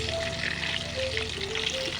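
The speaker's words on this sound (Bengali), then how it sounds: "এভাবে লাল লাল করে ভাজতে হবে।" Chicken keema chomchom snacks deep fry in hot oil, a steady close bubbling sizzle with faint clinks and tonal whines mixed in, no voices.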